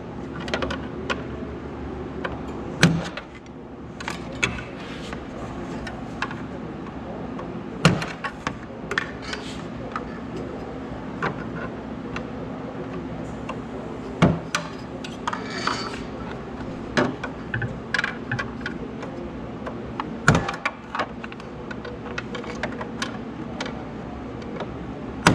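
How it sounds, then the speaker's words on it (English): A screwdriver reaches down behind a Morimoto headlight to push in small clips at its bottom and release it, giving scattered sharp plastic clicks and scrapes over a low steady background hum, with no talking. "you'll reach down in there with the screwdriver. And there's little clips at the bottom that you have to push in to release"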